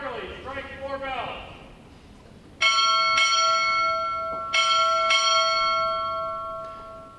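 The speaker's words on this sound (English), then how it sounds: "Time orderly, strike your bell." At a Navy boot camp graduation at Recruit Training Command, a ceremonial ship's bell is struck in two quick double rings with long ringing decay, following a voice giving a command.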